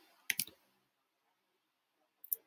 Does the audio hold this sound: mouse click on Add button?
yes